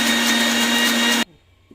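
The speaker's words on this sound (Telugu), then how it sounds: "సో మొత్తం కూడా వేసేసి ఇంక ఇప్పుడు మూత పెట్టేసుకొని మిక్సీ పట్టుకోవాలా" A lidded mixer grinder blends skin cream ingredients with a loud, steady whirring whine for just over a second, then cuts off abruptly into near silence.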